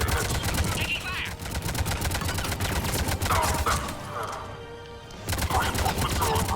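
Sustained gunfire during an attack in the Mass Effect video game, rapid repeated shots with a short break near the end before firing picks up again, loud and close.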